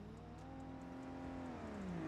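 A car engine in the driving game BeamNG hums and revs steadily, its pitch rising and sliding through a continuous whine across the short stretch.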